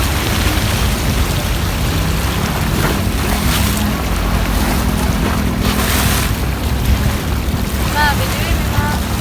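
Rough sea water surges and splashes against a boat in a steady, loud wash with wind buffeting the microphone, and people talk faintly in the background.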